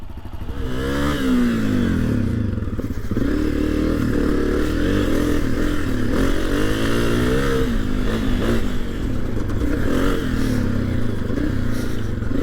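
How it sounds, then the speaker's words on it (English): A 2022 Honda CRF250F with an air-cooled engine revs freely while being ridden, its pitch swooping up and down through repeated throttle blips, loud and close, with clattering mechanical noise underneath. "one thing that becomes apparent quickly is the how kind of free revving this engine is"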